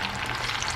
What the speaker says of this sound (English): I do it when I'm just frying on really low temperatures like this.